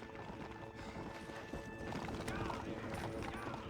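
Horse hooves clip-clop rapidly in a running rhythm, with a whinny and busy background noise from a Red Dead Redemption game scene.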